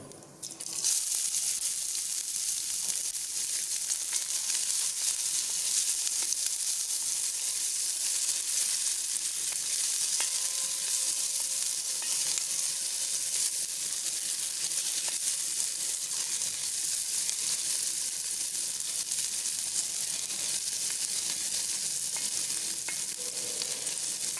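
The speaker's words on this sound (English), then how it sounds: "When it will turn in light brown color, then we'll add chopped onion." Chopped onion frying in hot oil for chicken curry, a steady, loud, hissing sizzle that runs unbroken throughout after a brief start.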